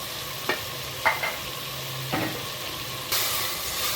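Onion, ginger and garlic sauté in a pan for tomato rice, a soft continuous sizzle broken by a few sharp utensil scrapes and taps, with a brighter burst of sizzling near the end.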